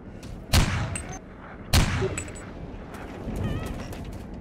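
Two sharp, loud sniper rifle shots in the video game Bet On Soldier, about a second apart, each a sudden broadband crack with a short decaying tail, followed by lower background rumble.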